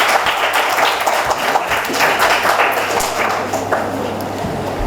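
Crowd applause at a university FM radio station's anniversary ceremony as a broadcasting guest is introduced, a full, sustained roar of many hands with a faint voice underneath.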